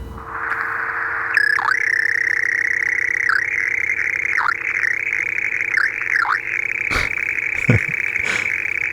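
An electronic wall-safe code in the horror video game Signalis plays as a steady, sustained beeping tone with wavering pitch dips and short blips, loud and clear with no talk over it.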